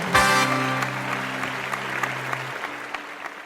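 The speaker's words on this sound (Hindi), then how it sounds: "दोनों के लिए बहुत सारी तालियां।" Studio audience on a Pakistani talk show applauding two guests, a burst of clapping that starts sharply and fades over a few seconds under a lingering musical tone.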